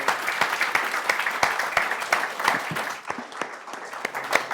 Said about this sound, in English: Would you give a fantastic round of applause for the politicians that could make it?